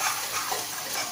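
Leftover water from boiling rajma kidney beans poured steadily into a pan of gravy, a continuous close splashing gush that fills the short moment without pause.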